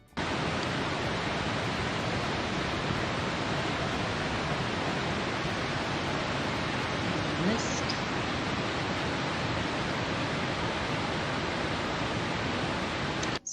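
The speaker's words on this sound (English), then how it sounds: "on either side of you are the falls of the American Falls and the Bridal Veil Falls" Niagara Falls roars from the American Falls and Bridal Veil Falls beside a viewpoint, a dense, steady, full-spectrum rush of falling water that runs unbroken and loud throughout.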